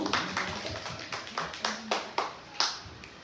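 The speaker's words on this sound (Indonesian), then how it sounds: "Kita beri tepuk tangan yang meriah dulu." A few people at a school event clap in a sparse, uneven patter of separate hand claps, faint and fairly close, with slight room echo.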